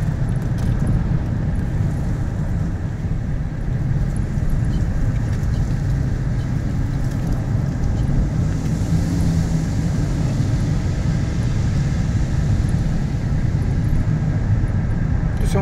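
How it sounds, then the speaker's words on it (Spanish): A car passes along a residential street, a steady broadband road rumble that holds loud and close throughout with no clear rise and fall, talk mixed in. "Ahí viene otro carro."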